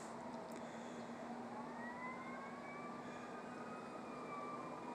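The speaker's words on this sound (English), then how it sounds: "All kinds of sirens." Distant emergency sirens wail with slow rising and falling tones over a steady broadband wash of background noise, faint and far off, with no voices.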